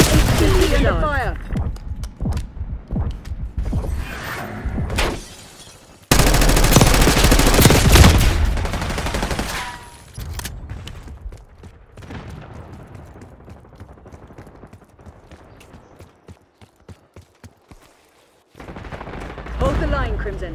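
Rapid automatic gunfire and bursts of shots from Call of Duty Black Ops 6 multiplayer on the Rewind map, loud and sustained with a dense heavy barrage midway, mixed with game voice lines.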